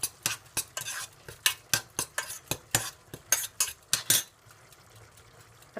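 Ragout meat sauce is stirred and mixed in a pot, a spoon scraping in a steady run of about twenty close, brisk strokes with a faint sizzle underneath, ending in a quieter simmer with no talking.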